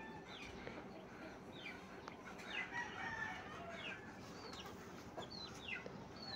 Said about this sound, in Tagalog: Isa sa pinakamalaking manok, ang ating Brahma Chicken.